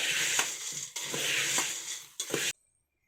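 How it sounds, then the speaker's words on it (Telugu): A ladle stirs freshly fried boondi and cashews in a pan, giving a dry, crunchy scraping and rustling churn with a few sharper scrapes before it stops abruptly. "ఇప్పుడు గరిటె పెట్టి ఒకసారి కలిపేసుకోవాలి"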